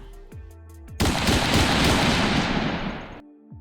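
A loud gunfire sound effect, used while a giant mantis-type demon beast is shot at in a fantasy manhua story, erupts suddenly as a dense, continuous volley lasting about two seconds before cutting off, with softer tonal sound around it.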